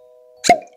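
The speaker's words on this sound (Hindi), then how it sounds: "मेरा फेवरेट एक पॉप पॉप की आवाज जो रहती है वो सुनते हैं। Let's open the cork." A cork pops out of a Craigellachie Scotch whisky bottle in one short, close, sharp pop followed by a brief soft hiss, set against a faint steady hum.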